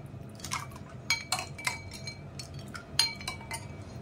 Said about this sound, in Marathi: आता मस्तपैकी मिक्स करून घ्यायचंय।